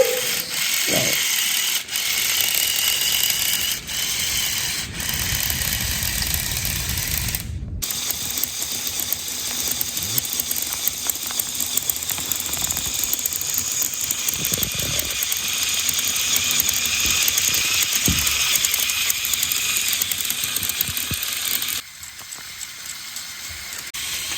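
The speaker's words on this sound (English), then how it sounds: "now all of the pistons are going through the 4 cycles: intake, compression, power stage and exhaust" A small model V8 engine runs continuously with a fast, rattling mechanical clatter, like spinning gears and ratcheting parts, close up and steady throughout.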